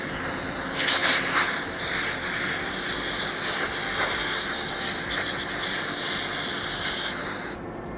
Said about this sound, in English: What I like to do is just take some brake clean. Just take a little compressed air.